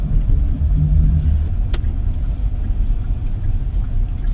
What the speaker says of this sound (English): We are currently riding on this cobbled road